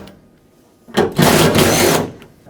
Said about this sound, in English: take a 10mm socket, remove both mounting nuts, hold the handle